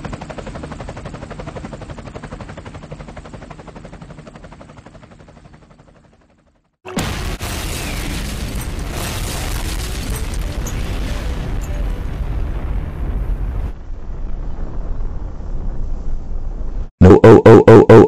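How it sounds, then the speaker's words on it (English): In an animated sound effect, a bomb drops onto a house. A droning engine hum fades out, then a loud sustained blast rumbles for several seconds and dies away, and a final burst of noise follows. "Go ahead and drop the bomb at their house."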